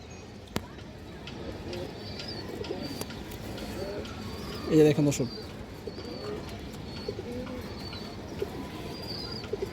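Pigeons coo softly in a loft among flying and show pigeons, with a louder coo burst midway, occasional chirps and faint clicks, and someone talking over them.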